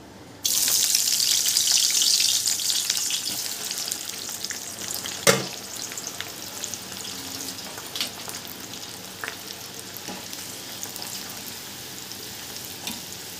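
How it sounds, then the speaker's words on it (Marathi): Large chopped onions dropped into hot oil in a kadai, a loud burst of sizzling that settles into steady close frying, with one sharp clatter midway and occasional utensil clinks. "आता त्याच्यामध्ये आपण जे मोठे साईजचे कांदे कापलेले आहेत ते तळून घेऊया"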